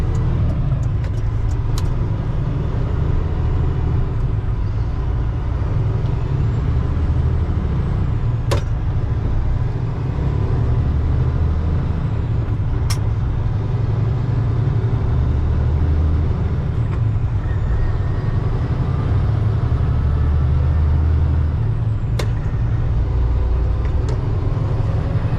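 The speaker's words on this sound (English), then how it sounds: "Now you guys can see what it's like to take off from first all the way through 9th or 10th." A semi truck with a 10-speed manual transmission pulls away from a stop and accelerates up through its gears, a steady loud low engine drone throughout, with brief sharp clicks or air releases between shifts and no talk.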